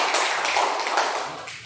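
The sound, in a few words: group clapping hands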